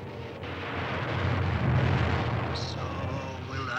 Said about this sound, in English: Just as I will destroy that statue with a ray,